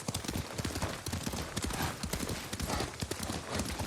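A horse gallops in Ghost of Tsushima, hoofbeats pounding in a rapid, steady clip-clop that stays loud and continuous throughout, with a faint rush of wind behind.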